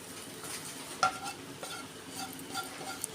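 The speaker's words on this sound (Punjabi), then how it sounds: "ਹੁਣ ਆਪਾਂ ਜਿਹੜੇ ਆਪਣੇ ਮਟਰ ਆ ਇਹ ਪਾ ਦਾਂਗੇ ਵਿੱਚ" Green peas are added and stirred into simmering Punjabi kadhi, giving soft scraping stir strokes with a few light clinks of a spoon against the pot over a quiet cooking hiss.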